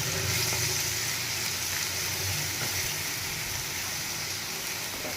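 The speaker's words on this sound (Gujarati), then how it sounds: "તેલ આપણું ગરમ થઈ જાય એટલે પહેલાં આપણે એમાં ડુંગળી એડ કરી દઈશું ડુંગળીને આપણે બે મિનિટ માટે સાંતળી લેવાની છે" Chopped onions sautéing in hot oil in a pan for a pizza topping, giving a loud continuous close sizzle with no talk.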